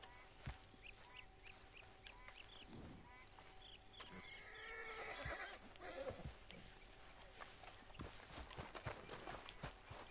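A horse whinnies in a Red Dead Redemption 2 game scene, with hoofbeats, faint background ambience and scattered effects, at moderate loudness.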